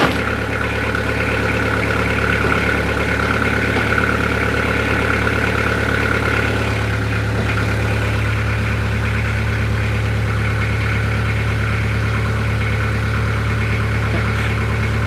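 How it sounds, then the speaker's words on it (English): The inboard engine of a wooden boat idles at launch, a steady low mechanical rumble with a regular throb that runs close and unbroken from start to finish. "Okay, let's start the engine."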